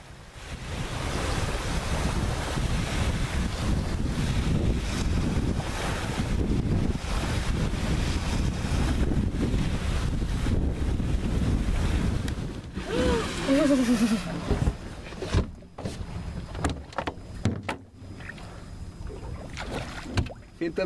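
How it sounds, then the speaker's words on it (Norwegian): Waves washing on lake Mjøsa by a shoreline, a steady broad surf wash with wind buffeting the microphone, louder for the first twelve seconds and then thinning into choppier splashes with a brief voice near the end. "Da satt jeg rett ned forbi ferieklinikken og hørte på bølgesusen."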